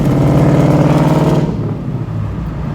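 A Ford Mustang 5.0 V8 rumbles loud and close while driving in the rain, its deep burbling exhaust holding steady before the revs drop and it settles to a lower idle-like drone.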